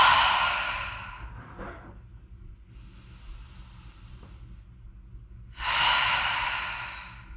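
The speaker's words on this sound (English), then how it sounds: "Take 3 more deep breaths. Maybe you make your exhales big size." Deep breathing during a slow mat-based workout: two big, close exhales, one at the start and one near the end, with a softer breath between them over quiet background.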